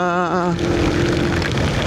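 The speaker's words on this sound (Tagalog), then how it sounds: "Tumatagos yung parang karayom sa lakas ng ulan" Heavy typhoon rain pours down near a bridge in CSJDM, a dense, steady roar of water that fills the clip from start to end, with a brief tonal hum at the very beginning before the downpour takes over.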